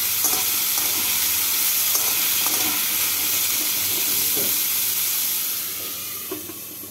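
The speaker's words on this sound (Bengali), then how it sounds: "কুমড়োগুলোকে তেলের মধ্যে নাড়াচাড়া করে গ্যাসটাকে মিডিয়াম ফ্লেমে রেখে" Pumpkin pieces fry in hot oil over a medium gas flame while being stirred. A loud, steady sizzle carries soft scraping stir strokes throughout, easing slightly toward the end.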